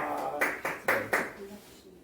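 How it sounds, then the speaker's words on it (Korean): A church congregation at a Sunday service gives a few quick claps, four or five crisp close hits in a short burst that fade into quiet. "다시 한번 하나님께 영광의 박수 드리도록 하겠습니다"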